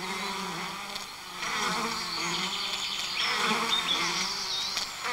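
Bees buzz continuously in a dense, close swarm drone, rising and falling slightly in loudness over several seconds, with no talk.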